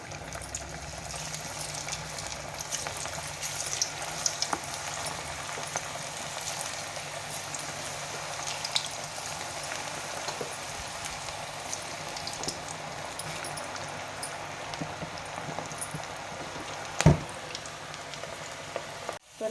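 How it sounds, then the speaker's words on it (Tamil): Broccoli pakoda frying in hot oil in a pan gives a continuous, even crackling sizzle with no talking, plus a brief louder clatter near the end. "அடுப்பில் எண்ணெய் வச்சுட்டு நல்லா காஞ்சிடுச்சு. இப்போ வந்து ஒன்றா போட்டுக்கலாம்."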